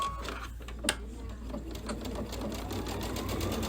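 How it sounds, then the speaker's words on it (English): A sewing machine stitches a straight line along the fabric edge using a J-foot. It gives a steady, close mechanical whir that runs continuously, with one small tick near the start and no talking. "I'm just going to sew from the front because we now know that it's going to cover just fine"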